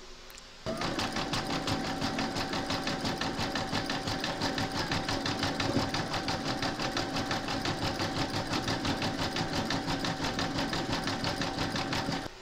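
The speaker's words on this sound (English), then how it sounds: "load a monofilament, which is like a clear nylon, into your machine, and then you're going to stitch round number 6" A sewing machine stitching a zigzag with clear nylon monofilament thread, its motor starting abruptly and then running in a fast, even, steady mechanical chatter for over ten seconds, close and alone.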